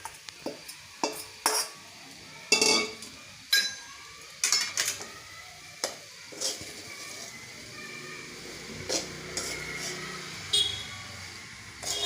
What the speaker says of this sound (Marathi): हळीव हे परत आपण हे सारण केलेलं याच्यात घालायचं आणि परत हलवून घ्यायचं आहे